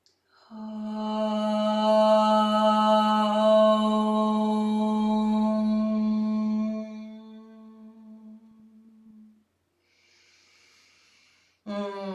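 A single voice chants a long, steady Om, rich in harmonics, gradually closing to a hum before fading; a breath follows near the end.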